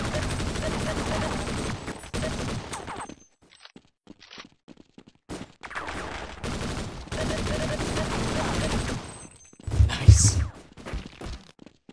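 A nailgun fires in a multiplayer video game as rapid volleys of sharp shots in bursts, with gaps, footsteps and players talking in between, and one heavier impact near the end.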